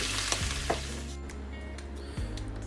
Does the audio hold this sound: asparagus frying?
yes